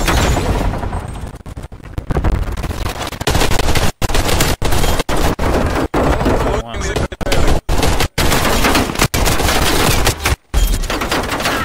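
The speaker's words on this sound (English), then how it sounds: "Someone's up top somewhere with an LMG." In the Warzone video game, an LMG fires long rapid bursts of loud automatic gunfire, broken by short silent gaps between strings of shots, with a sharp, dense, repeated rattle throughout.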